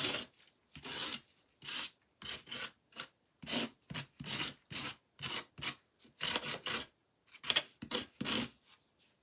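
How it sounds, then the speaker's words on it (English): A dry brush scrapes pale green paint over a craft piece flecked with gold, in about a dozen and a half short, regular rasping strokes separated by brief pauses. The strokes are close and fairly quiet, with no talking. "I know all this scraping is probably driving somebody crazy"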